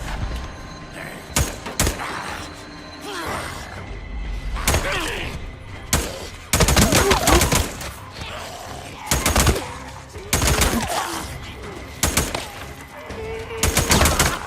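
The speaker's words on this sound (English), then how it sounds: "The guns are the star of the show, the way they just rattle off as you're shooting." Guns in Days Gone fire loud, hard-hitting bursts and single shots that rattle off in irregular clusters, close and punchy, set against a murmur of game ambience.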